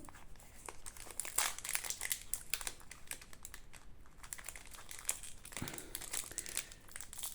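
A Pokémon card booster pack wrapper is torn and crinkled open, a dense stream of close, crisp rustling and crackling foil sounds with brief pauses, no talking.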